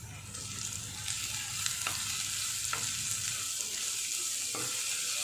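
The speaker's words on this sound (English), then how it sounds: "as the onions are getting cooked" Onions with salt cooking in a pan for pasta in tomato sauce, a steady, fairly quiet hiss of frying with a few faint scrapes of stirring spread across the stretch.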